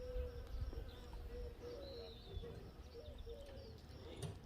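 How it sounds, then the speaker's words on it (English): Bees hover and buzz around flowering borage in a garden, a soft, faint, wavering drone close by with occasional birdsong in the background. "Ooh, and the bees love the borage."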